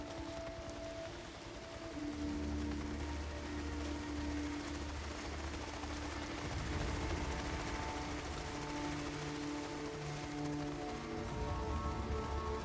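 Rain in the video game Days Gone, a steady hiss of falling rain heard quietly beneath game music and low sustained tones, with faint mechanical clicks mixed in and no talking.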